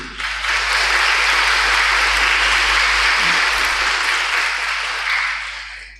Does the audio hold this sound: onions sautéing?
no